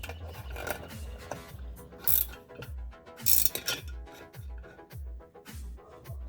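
A 19 mm wrench tightens a motorcycle bearing extractor, giving a steady rhythm of close ratcheting clicks and metal creaks, repeated about a dozen times with no talk.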